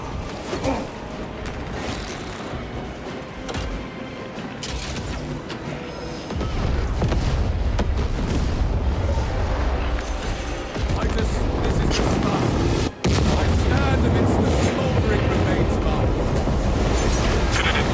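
Detonation explosions in Warhammer 40,000: Space Marine 2 bring a heavy low rumble that swells about a third of the way in and keeps booming and roaring loudly, with a brief sharp break near the end, while a voice speaks over it.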